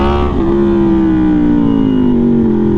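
An Aprilia Tuono V4 motorcycle's V4 engine runs while riding, giving a loud, steady, rich harmonic drone whose pitch eases slightly lower over a few seconds, with no talking.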